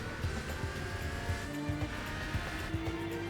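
A Toyota 2000 GT racing in Gran Turismo 4, its engine drone steady with harmonic tones shifting as it corners, a faint tire squeal now and then, with no voices.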